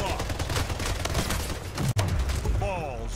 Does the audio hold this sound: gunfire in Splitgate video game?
yes